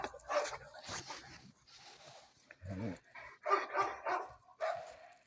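Several dogs bark and yip in short irregular bursts, fairly close, with brief quiet gaps and some rustling between them.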